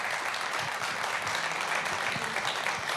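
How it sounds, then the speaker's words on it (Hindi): Steady audience applause welcoming a BJP spokesman onto a Hindi live news broadcast stage, a dense, continuous wash of clapping at moderate level, with no voices over it. "बहुत बहुत स्वागत है आपका, तालियों के साथ।"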